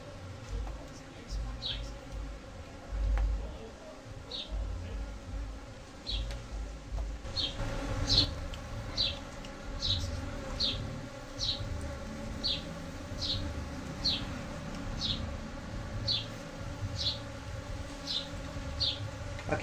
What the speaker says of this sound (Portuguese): Vejam e acompanhem esse enxame de jandaíra, o tamanho e a quantidade de discos de cria.